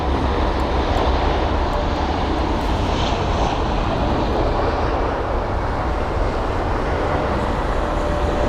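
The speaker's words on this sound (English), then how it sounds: "a United 787-9 Dreamliner right behind this E190" A United Boeing 787-9 Dreamliner arriving at London Heathrow, a steady, broad jet roar filling the scene at constant loudness without other sounds.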